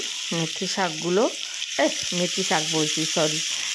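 Vegetables sizzle steadily as they are stirred in a pan, with a constant frying hiss beneath and a voice talking over it throughout.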